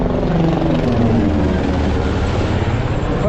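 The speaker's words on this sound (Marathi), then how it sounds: "आता हेलिकॉप्टर एकदम क्लोज जातो." Helicopter on the Amarnath Yatra route near the Holy Cave passes close overhead with a loud, steady rotor roar and chop, filling the whole stretch with no talk.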